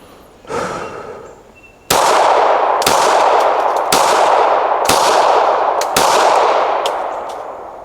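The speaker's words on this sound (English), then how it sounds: "These are also the first shots of the day." Gunshots at an outdoor shooting range, five loud sharp reports about a second apart, each ringing out with a long decaying echo after a soft breath before the first shot.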